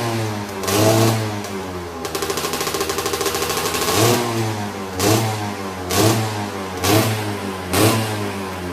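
A 125cc two-stroke motorcycle engine with a seven-speed gearbox revs loud and close: a sustained, buzzing rev early on, then a run of short, sharp throttle blips at regular intervals.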